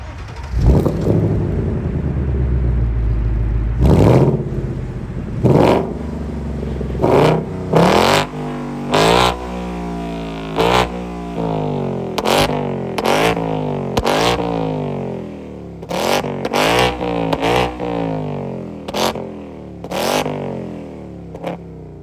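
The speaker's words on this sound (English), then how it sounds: "let's go ahead and listen to this glorious 5-liter V8" Ford Mustang Dark Horse 5-liter V8 revved repeatedly from idle, a dozen or so sharp blips rising and falling in quick succession, loud and close, with no talking.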